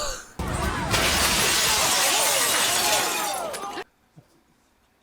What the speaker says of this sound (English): Kyle smashes through a big-ass window.